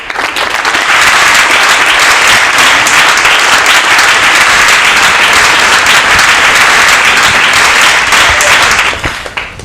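Loud, dense applause from a large television studio audience, sustained evenly for several seconds before tapering at the end.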